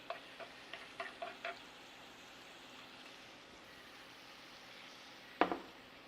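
Shrimp fry with garlic in oil in a pan, a faint, quiet sizzle with a few soft utensil taps early on and one sharper clink near the end.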